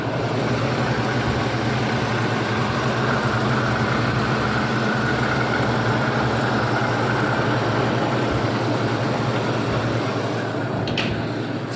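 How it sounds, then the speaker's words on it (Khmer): A 2000 Toyota Tacoma with a V6 engine idles steadily and quietly, a smooth low rumble holding an even level throughout with no revving and no talking. "ម៉ាស៊ីនឆេះស្ងាត់"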